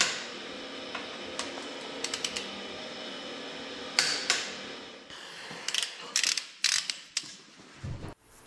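A ratchet wrench tightens bolts on a Ford 351 Windsor engine being built, giving sparse, quiet clicking runs that grow into quicker clusters of sharp ratcheting clicks near the end, with no talking.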